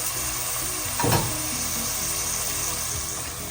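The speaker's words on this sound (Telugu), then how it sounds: "ఆయిల్ కాగిన తర్వాత ఆనియన్స్ వేసేసుకోవాలి. ఒక 2-3 మినిట్స్ ఆనియన్స్ వేగనివ్వాలండి." Onions frying in hot oil for mutton pulusu, a constant loud sizzle with a brief stirring scrape near the middle and no talking.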